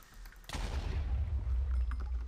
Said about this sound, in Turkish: Creeper'lar kendini patlatıyor ve dungeon'ın sonu burası.